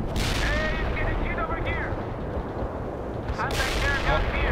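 Dense battlefield gunfire and explosions from the video game World in Conflict, a continuous loud roar of shots and booms with game voices briefly heard over it.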